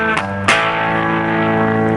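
Distorted electric guitar plays a sustained chord riff from a song, with a fresh strum near the start and another at half a second, then the chord rings on loud and steady.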